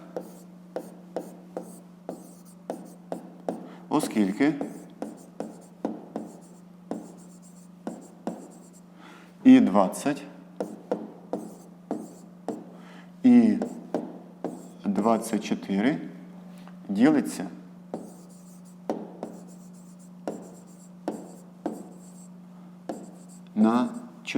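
Pen writing out math solutions for a fifth-grade exercise on common divisors, a steady run of short scratchy strokes with brief pauses, close and clear, and a hum running underneath throughout.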